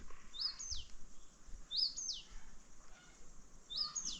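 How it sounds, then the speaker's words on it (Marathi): A bird repeats a clear, rising whistled call three times at steady intervals, fairly faint against quiet evening ambience. "तोपर्यंत तुम्हाला पक्ष्यांचा वगैरे आवाज येईल थोडाफार"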